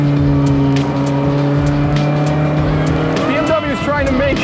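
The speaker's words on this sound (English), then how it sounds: "There's no greater joy than the sound of that engine." A BMW E30 M3 engine holds a steady, loud, tonal drone, then revs and shifts pitch near the end of the short run.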